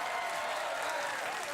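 A television talk show studio audience gives a short, loud burst of applause, thick and continuous throughout with no speech on top.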